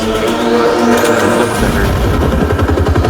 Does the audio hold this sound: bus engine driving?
yes